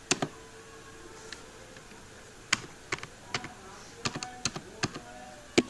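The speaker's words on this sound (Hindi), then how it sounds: "स्पेस और एंटर का बटन दबाते रहो" Space and enter keys on a computer keyboard are pressed repeatedly: sharp, close clicks come singly and in quick clusters over a faint steady hum, with no talking.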